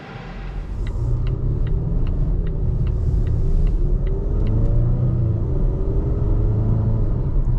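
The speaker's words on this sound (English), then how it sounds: "here we are driving the 2024 Volvo XC40 with the B5 powertrain" A 2024 Volvo XC40 B5 mild hybrid cruises on the road with a steady low cabin rumble and engine hum throughout, plus faint regular ticking above it. No one speaks.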